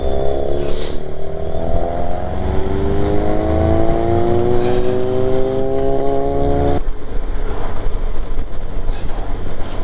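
A Honda Goldwing motorcycle engine drones loudly while riding, its pitch rising steadily through acceleration, then dropping away, with wind buffeting the microphone throughout.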